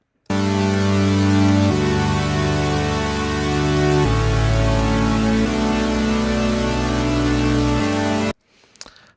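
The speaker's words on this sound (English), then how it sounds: "So that's what it sounds like raw. Obviously a saw wave, very bright." Raw, unfiltered saw wave synth patch from Serum playing MIDI chords, very bright and buzzy, with sustained chords changing every few seconds before cutting off abruptly.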